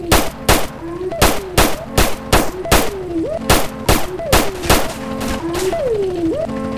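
Rapid gunshots from a suspect in GTA San Andreas, fired in a steady run of loud, sharp cracks spaced about half a second apart, with a voice crying out between some of the shots.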